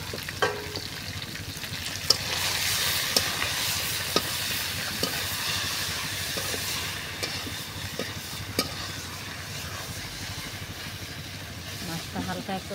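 Gulsha fish frying in a hot pan, a continuous moderate sizzle with occasional clinks and stirring knocks, while people talk faintly nearby.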